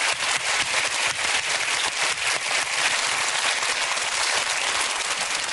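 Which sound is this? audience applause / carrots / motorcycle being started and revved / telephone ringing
audience applause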